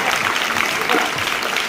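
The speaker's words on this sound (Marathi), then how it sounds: "आता आपल्या शिक्षकांसाठी जोरात टाळ्या वाजवा." A crowd of school children at a district council school claps loudly and steadily for their teachers, a dense burst of applause close by with a voice faintly under it.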